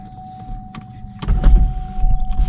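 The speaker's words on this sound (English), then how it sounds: "Got a nice sunroof here," A car's electric sunroof motor whirs as it opens, a steady hum that swells louder and rougher halfway through, heard up close inside the cabin with no talking.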